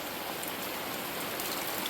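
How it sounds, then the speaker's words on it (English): Heavy rain pours onto a boat lying at anchor, a dense, even hiss of drops hitting the surfaces, held steady and moderately loud without a break. "That's how much it's raining."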